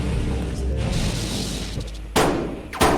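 Light shotgun blasts in the video game Necrocore, two sharp broadband bangs fired a little over half a second apart, loud and close, following a stretch of busy in-game ambience and low rumble.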